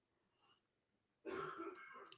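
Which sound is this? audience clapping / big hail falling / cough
cough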